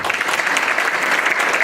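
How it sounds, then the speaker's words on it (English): Steady applause from a conference audience at a smart growth summit, dense and continuous clapping heard alone at fairly close range for the whole stretch. "so they deserve a round of applause"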